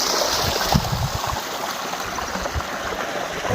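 Water runs through a farm irrigation channel in a village field, a continuous rushing and gurgling flow, close and steady, with a few soft knocks and no speech.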